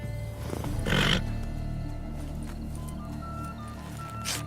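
A horse neighs in The Witcher 3, one loud whinny near the start over a low, steady game background, followed by quieter ambient tones.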